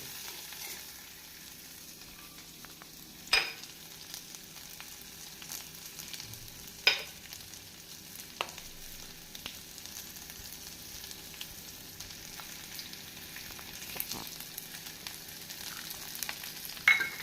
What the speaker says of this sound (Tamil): நாம் வெங்காயம் வதக்கும் போது காய்ந்த மிளகாய் கருவேப்பிலை பச்சை மிளகாயை போட்டு விடலாம்